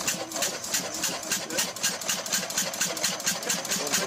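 A primitive first car engine in Assetto Corsa, started by spinning its flywheel, idles with a fast, even chugging pulse. It sounds close and fairly quiet and runs steadily throughout, with no speech.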